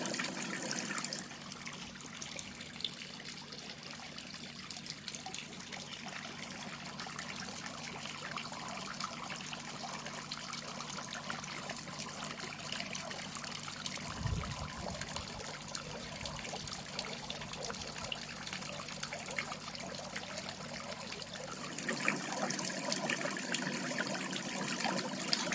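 Water trickles steadily through a garden pond bog filter in a French country cottage garden, a continuous close babbling flow with no talk.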